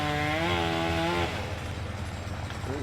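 Chainsaw running during tree service work on a farm, its harmonic whine climbing in pitch for about a second before dropping to a lower, rough rumble that fades slightly.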